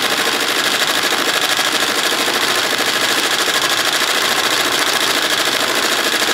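An embroidery machine stitches a large X onto the back of a jacket, producing a steady, dense mechanical whir and rapid needle chatter that runs unbroken and fairly loud throughout.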